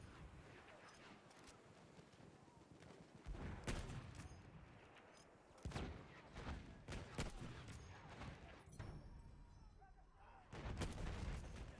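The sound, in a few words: gunfire from the video game Battlefield 1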